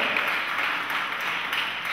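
Sustained crowd applause at a Haitian solidarity ceremony for the Polish community, a dense, even wash of many hands clapping throughout.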